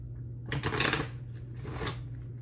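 A Dream card Oracle deck is shuffled in two brief, soft riffling bursts, close and quiet against a faint steady hum.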